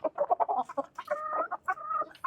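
Hen clucking close by, a quick run of short, throaty clucks followed by longer, drawn-out tonal calls, heard clearly on its own.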